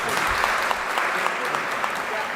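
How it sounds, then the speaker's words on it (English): A large audience at a university commencement ceremony keeps up steady, dense applause, a continuous wash of clapping with a few sharper claps standing out. "A big round of applause."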